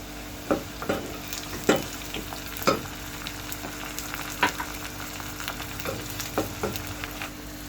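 Chopped tomatoes going into browned onions with ginger paste in a frying pan, sizzling steadily with repeated stirring scrapes and small bursts of spatter, close and fairly quiet, with no talking.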